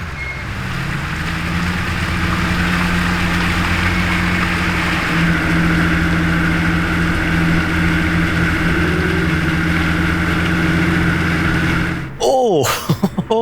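A blue Porsche GT3 sports car holds a loud, steady engine note with sustained revving while passing on a public road, then the sound cuts off abruptly near the end.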